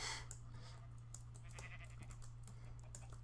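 Sheep bleat on a farm in a Minecraft modpack, faint and intermittent, under a steady low hum and scattered keyboard typing clicks.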